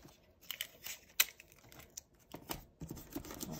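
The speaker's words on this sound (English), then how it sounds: "I'm just going to put down a couple of pieces of tape." Strips of tape torn and pressed onto a canvas surface, a brief series of faint, close crackling rips and taps with no voices.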